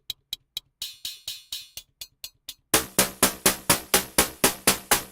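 A budget groovebox steps through a series of hi-hat samples, starting with tight, short clicks, moving to slightly longer ticks, then a louder bright run of open, washy hits with sizzling decays, all evenly spaced with no talking.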